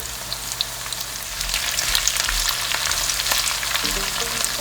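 Onion fries in a pan with salt and sugar, making a close, continuous sizzle with bursts of crackle and occasional stirring. No voices are heard.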